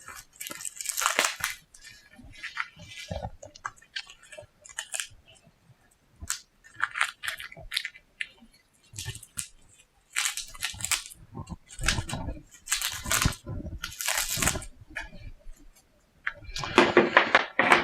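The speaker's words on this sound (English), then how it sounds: "So let's unwrap this." Packaging for an attachment to a Milwaukee M18 Fuel 2-gallon compressor is torn and unwrapped up close, giving irregular bursts of crinkling plastic and rustling with brief knocks and quiet gaps between.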